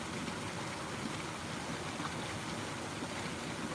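Water flowing outdoors, a steady, fairly faint broadband rush with no breaks, heard alone without voices.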